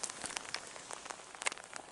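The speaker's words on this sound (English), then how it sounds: "Not pouring, but it is sprinkling." Light rain sprinkling at a campsite near Spiral Jetty, faint scattered drops pattering on a surface with soft crinkling ticks, no voices.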